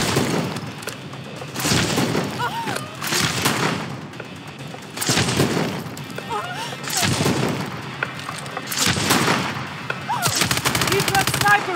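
Heavy bursts of gunfire from Call of Duty Advanced Warfare come in repeated loud volleys roughly every one to two seconds, with dense automatic fire and booming impacts over a constant battle din and faint voices.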